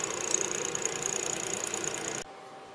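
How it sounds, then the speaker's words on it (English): A Taig lathe runs steadily while machining soft jaws, a continuous mechanical whir with a bright high whine, then cuts off abruptly near the end as the machine stops, leaving near silence. "I've stopped the lathe and looking at the machining"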